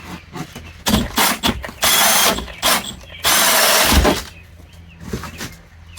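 A power drill whirring in several loud bursts with short pauses between, cutting into wood with 1.25-inch and 3-inch hole saws for a wine rack, with clattering and handling noises in the gaps.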